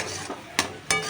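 Roasted spice mix being stirred into salted raw mango pieces for pickle, with a soft ongoing scrape and two brief, sharper clicks of a spoon against the bowl, close up.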